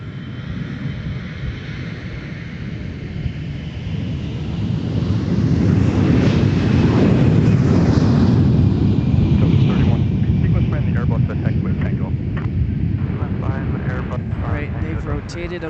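A Delta jet airliner turning onto the runway at MSP airport, a broad roaring engine rumble that swells over several seconds and then holds steady. Wind buffets the microphone throughout.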